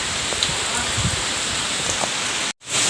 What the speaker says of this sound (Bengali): দেখো দেখো কী পরিমাণ ঝড়টা হচ্ছে দেখো